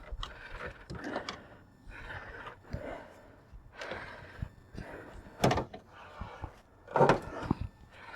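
Bonnet of a Mazda MX5 NC being opened in a garage: several mechanical clunks and latch clicks, with a louder catch or thud near the end, close by and with no talk.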